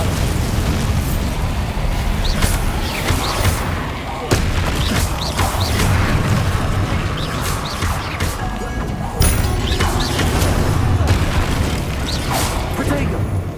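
Repeated booming blasts from Bombarda and Confringo spells in Hogwarts Legacy, heavy crashes and explosions landing every few seconds amid continuous combat noise and debris.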